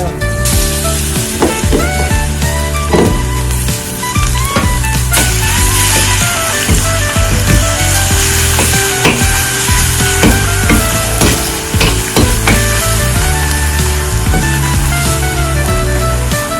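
A fresh ground spice paste for rasam going into hot oil with mustard seeds and being stirred in a pan, giving a loud, dense, continuous sizzle with clattering utensil knocks throughout, close up and without speech.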